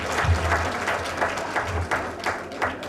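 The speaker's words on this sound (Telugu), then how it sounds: "ఒక్కసారి గట్టిగా క్లాప్స్." An audience at a music academy's second anniversary celebration claps for a guest, a loud, full burst of many hands with a few sharper individual claps standing out, and faint voices mixed in underneath.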